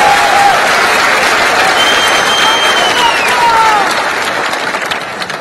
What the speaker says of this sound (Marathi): जोरदार टाळ्या आमिर खान इतक्या जोरात वाजवा की त्यांना तिकडे मुंबईला ऐकू गेल्या पाहिजे